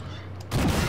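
A tank cannon fires in the armored combat video game Armored Warfare. A sudden loud boom lands midway after low background rumble, and a dense roar carries on to the end.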